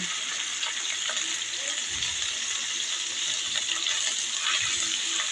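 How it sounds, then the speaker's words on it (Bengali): Garlic and ginger paste frying in hot oil in a pan for a Bengali baim eel curry, giving a steady, even sizzle throughout at moderate level, with no voices. "এবার মশলাগুলোকে তেলের সাথে একটু ভেজে নেব যেন কাঁচা গন্ধটা না থাকে"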